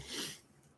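A single close, breathy sneeze bursts out at once and fades within half a second into quiet.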